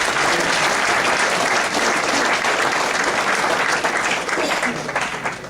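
A banquet audience claps loudly for the junior class, and the dense, steady applause carries on throughout.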